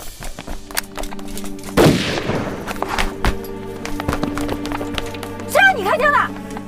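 Sharp gunshots crack out in a Chinese wartime spy drama, one loud blast standing out amid scattered impacts, with shouting and a tense background score running throughout.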